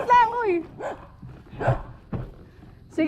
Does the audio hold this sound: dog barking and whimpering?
yes